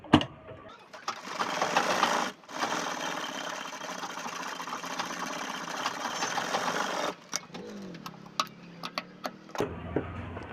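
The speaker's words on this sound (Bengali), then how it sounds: "কাটার পরে এভাবে একটা লক সেলাই মেরে দিবে।" An overlock sewing machine runs in bursts while lock-stitching the cut edge of a churidar top's fabric, a close, fast whirring drone lasting several seconds, then a pause with light clicks and handling sounds.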